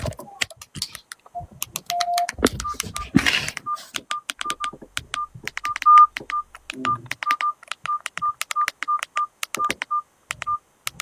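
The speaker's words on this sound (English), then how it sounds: "Let me bring my phone and call my number." A mobile phone keypad beeps through a string of dialing tones as a number is entered, short evenly paced presses following a few scattered taps and rustles, close and clear.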